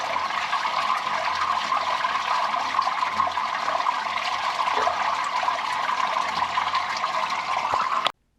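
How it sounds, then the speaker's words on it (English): Water pours and splashes steadily as a drain area is washed down, a continuous rushing wash that runs unbroken for about eight seconds before cutting off abruptly. "let's give this a little bit of a wash down"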